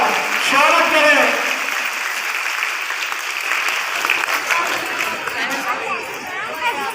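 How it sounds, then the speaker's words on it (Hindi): Crowd applauding to welcome a minister at a public felicitation in Khurai, clapping strongest at first and then continuing more loosely under chatter and voices. "जोरदार तालियों बजाकर स्वागत करें।"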